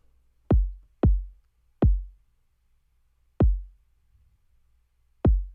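Kick drum sample in Logic struck five times at uneven intervals, each a deep punchy thump with a quick decay, separated by near silence.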